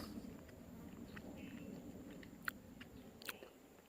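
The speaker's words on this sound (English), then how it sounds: "So forgive me if I'm chewing in the middle of the film." A hiker chews turkey jerky on the Appalachian Trail near Wolf Laurel, with soft, faint mouth sounds under a steady outdoor hiss and a couple of brief crisp clicks.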